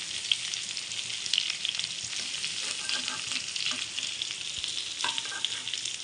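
Stuffed brinjal and okra being stirred while they fry in a pan make a constant, close, crackling sizzle, broken by occasional light scraping from the stirring.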